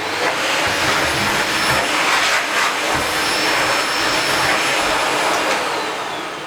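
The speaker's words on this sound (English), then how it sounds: "I've opened the pillowcase inside out to vacuum" A vacuum cleaner roars steadily and close, sucking loose feathers off a velvet-covered pillow insert turned inside out, with a constant loud whine running the whole time.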